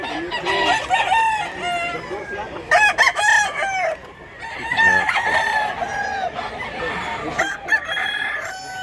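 A big rooster crows loudly and close several times in a row, with clucking and other fowl calls around it.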